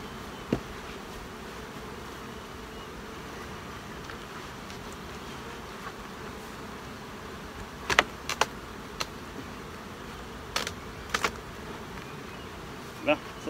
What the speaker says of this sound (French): Les abeilles travaillent fort là-dessus.